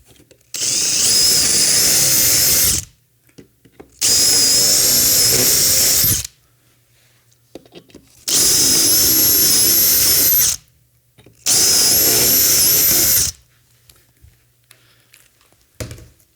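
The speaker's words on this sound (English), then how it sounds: "And I'm just going to drill through." A power drill whines loudly in four separate bursts of about two seconds each, with brief quiet gaps between them, drilling through a vehicle bumper during assembly.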